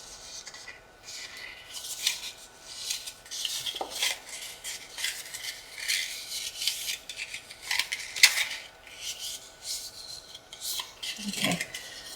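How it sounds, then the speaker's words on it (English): Paper pop-up stage piece being folded along score lines, giving soft crisp creases and rubbing rustles in short bursts, close and fairly quiet with no talking. "And I'm going to fold this piece."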